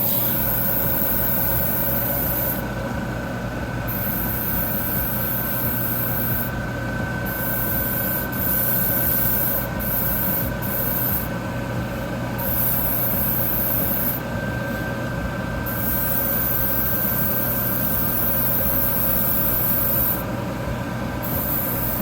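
A hobby paint spray booth fan runs steadily with a constant airy whoosh and a low mechanical hum, unbroken and fairly loud throughout.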